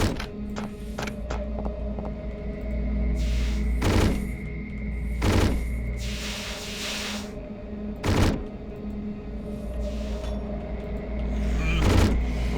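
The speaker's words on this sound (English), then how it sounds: "Sounds like acid that they're shooting." Enemies in the video game Hedon shooting acid: repeated bursts of spitting, crackling shots over a busy, steady game soundscape, several sharp loud hits spaced a few seconds apart.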